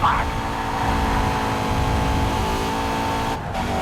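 DTM race car held at full throttle on the final lap in TOCA Race Driver 3, a steady loud engine drone with sustained tonal whine throughout, briefly dipping near the end, with a voice talking over it.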